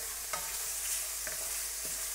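Meat frying in oil is stirred in a hot pan, with a steady close sizzle and a few soft scrapes of the utensil at irregular intervals.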